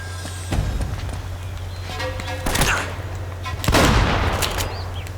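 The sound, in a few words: shotgun blast in the video game Uncharted: Drake's Fortune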